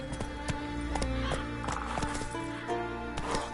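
Roach, a horse in The Witcher 3, gallops with a rapid, rhythmic clip-clop of hooves over continuous game background sound and a brief whinny.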